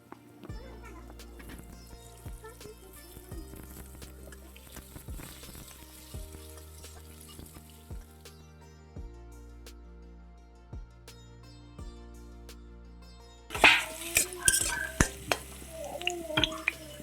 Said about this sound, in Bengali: প্রথমে আলুগুলো ফ্রাই করে নেব হালকা হালকা